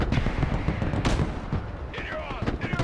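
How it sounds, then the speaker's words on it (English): Mortar and gunfire in the Broken Arrow strategy game: several sharp booming impacts and rattling shots at moderate distance over a busy battle ambience, with some faint talk underneath. "Now they're coming in with mortars on the left flank"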